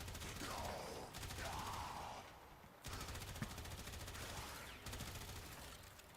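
Assault rifle fire from the Warframe video game comes in rapid automatic bursts separated by short breaks, loud and close, with a voice talking faintly underneath.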